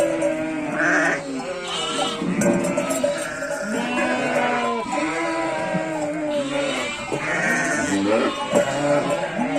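Sheep on a village farm bleat loudly and repeatedly just after a ewe has given birth to a lamb, overlapping wavering calls close by with little pause.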